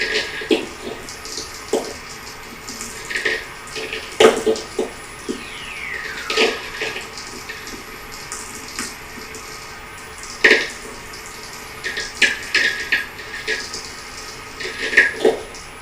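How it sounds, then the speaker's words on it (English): Natural radio VLF sferics picked up on a WR3 receiver crackle as irregular sharp clicks and pops over a steady hiss, with a faint descending sweep partway through. "what I'm listening to with the WR3 instead is natural radio, the constant, enveloping, unpredictable electromagnetic activity of the planet Earth"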